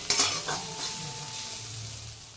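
Fried food being stirred in a pan before dal goes in, a sharp utensil clatter at the start, then a soft continuous sizzle up close.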